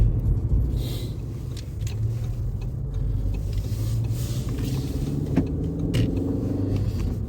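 A car driving along a road, a steady low interior rumble of engine and tyres heard from inside the cabin, continuous and fairly loud with no talking.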